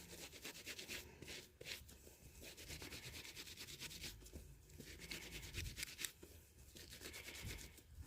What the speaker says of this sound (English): I'm going to go in with my 2 fingers again and start rubbing